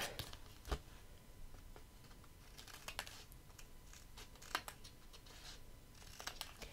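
Scissors trim solid cardstock for a handmade card, giving short irregular snips and papery rustles spread across the stretch, close and fairly quiet with no talk.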